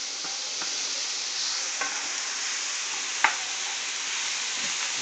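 Meat frying in a pan, loud steady close sizzle with occasional stirring scrapes and a sharp clink near the end.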